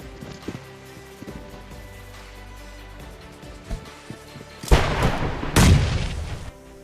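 A grenade goes off in the mobile battle royale game PUBG Mobile, two loud bursts of blast noise arriving close together late in the clip after a stretch of quieter in-game ambience.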